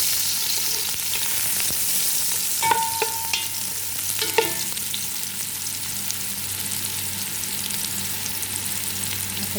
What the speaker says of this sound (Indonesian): Masukin bawang bombay, goreng.